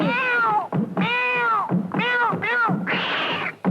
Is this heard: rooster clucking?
no